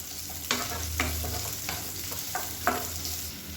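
Sliced large onions fry in hot oil and are stirred in a pan. A steady sizzle runs underneath periodic spatula scrapes that recur roughly every half second to second.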